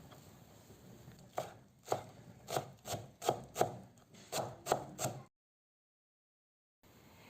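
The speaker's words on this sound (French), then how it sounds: "Je vais couper aussi la coriandre fraîche" Fresh coriander is chopped with a knife on a board in about a dozen quick, rhythmic strikes, fairly close, after which there is a sudden stretch of silence and then faint room noise.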